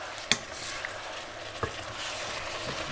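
Chili hoisin sauce for tofu simmering in a pan, a soft bubbling sizzle with a few sharp clicks of stirring against the pan.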